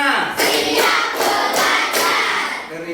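Schoolchildren clapping in unison on the final count, several loud claps in even rhythm filling three seconds, close and crowded.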